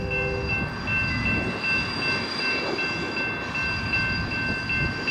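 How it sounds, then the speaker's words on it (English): CSX freight trains rumble past close by, steady low roar with faint metallic rail clatter and high squealing tones, continuous and loud throughout. "I hear another train now."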